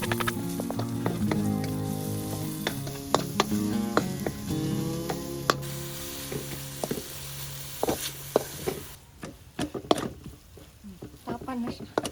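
Food frying for lunch aboard a converted RV bus, a steady sizzle broken by frequent utensil clicks and clatter, close by, with voices talking over it in places.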